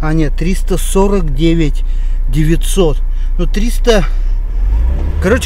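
A Mercedes-Benz W202 Elegance engine idles with a steady low rumble throughout while someone talks over it nearby.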